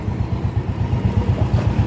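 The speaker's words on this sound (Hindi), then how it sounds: "आप अपने आरपीएम को ऐसे बढ़ा के अपनी बाइक को 30 से 35 की स्पीड पे चला सकते हैं" Royal Enfield Bullet 350 with a broken throttle cable, its engine held at raised revs with a rapid, regular low thump, close and steady throughout.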